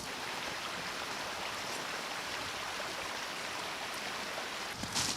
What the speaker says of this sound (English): We're hearing some running water, so hopefully we find a cool waterfall or river